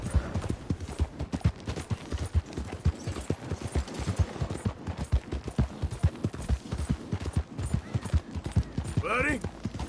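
Horse hooves clip-clop at a trot in a Western-style PS4 video game, a steady rapid rhythm of close hoofbeats with a brief whinny near the end, while game characters exchange greetings over it.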